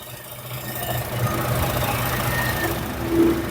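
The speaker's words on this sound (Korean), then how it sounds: "와 엔진 소리 정말 뛰어납니다." A Chevrolet Colorado engine idles steadily at close range under an open hood indoors, a low continuous rumble with faint mechanical ticking, no voices.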